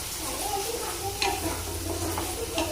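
Tomato paste frying in a pan for egg curry sizzles and bubbles in a dense, even hiss, with a few soft spatula stirs and scrapes close by.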